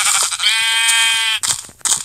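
Sheep bleating in Minecraft Pocket Edition, a loud, close, wavering bleat lasting about a second, followed by short noisy bursts of game sound.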